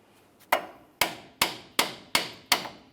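Six sharp, loud metal hammer blows knock stuck brake pads out of a caliper bracket on a 1999-2006 Chevrolet Silverado 1500 front brake, evenly spaced about half a second apart, each ringing briefly.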